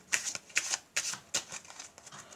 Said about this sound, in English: In fact, we'll give them a shuffle.